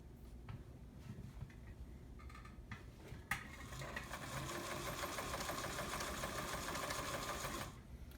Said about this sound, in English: So we're going to start with our straight stitch, and I'm using a size 12 needle, and here we go.